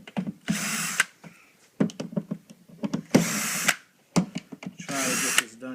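Power drill backing out screws from a particle board drawer's rails, several loud whirring bursts of a second or so each, separated by brief pauses and small handling clicks, close up.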